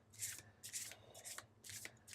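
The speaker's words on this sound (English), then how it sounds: "so then we'll just give these a shuffle" A deck of game cards for the board game The 7th Continent is shuffled by hand, four quick riffling bursts in a row, close and fairly soft, with no talk.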